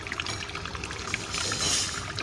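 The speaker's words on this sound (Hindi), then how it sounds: "पानी की आवाज़ आ रही है ना आपको" Water pouring and trickling steadily into a mini zoo enclosure, a continuous close splashing flow with no talk over it.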